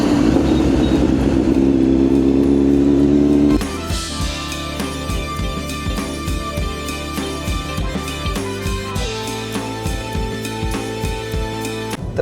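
A tractor driven by its owner on his own farm field: a loud, steady engine drone that shifts partway through into a lower, rhythmically chugging run, with rattling, no talking.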